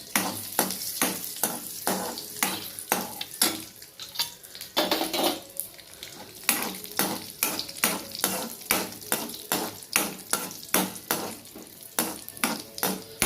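Cashews and raisins frying in a pan for kesari, with a spoon stirring and scraping in a quick, steady rhythm over a light sizzle, close up and with no talking.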